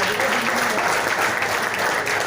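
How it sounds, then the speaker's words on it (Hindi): A standing audience claps loudly and continuously, a dense even wash of applause filling the room. "मेरा ख्याल से जोरदार तालियां"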